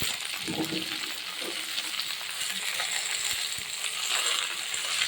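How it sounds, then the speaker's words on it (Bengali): Spinach and radish are stirred slowly in a frying pan, a soft continuous sizzle with light scraping and occasional metallic taps of the utensil, close and gentle. "পালং শাক আর মূলো দিয়ে দেব এবারে আস্তে আস্তে করে নাড়তে থাকি"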